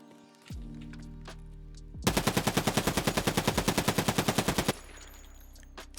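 A UMP45 submachine gun in Escape From Tarkov fires one loud sustained full-auto burst of roughly two dozen evenly spaced shots, preceded by a couple of weapon-handling clicks and followed by faint scattered clanks.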